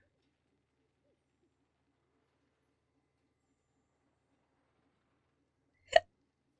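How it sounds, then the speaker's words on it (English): A single sharp hiccup bursts out near the end of an otherwise silent stretch, loud and brief against the quiet. "I have the hiccups."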